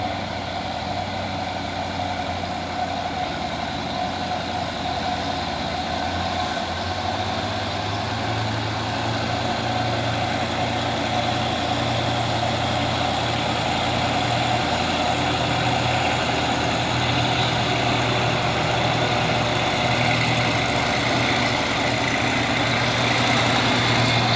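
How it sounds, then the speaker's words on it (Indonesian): An orange Fuso truck climbs uphill slowly on a steep road, its diesel engine giving a steady, heavy low drone that stays close and constant throughout, with no speech. "di belakangnya ada si Fuso orange bosku. Menanjak dengan slow."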